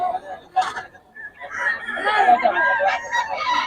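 At a gamefowl sale in Bocaue, a rooster crows fairly close by and other fowl cluck around it, while people talk over the birds.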